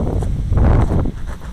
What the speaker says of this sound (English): The wind's starting to pick up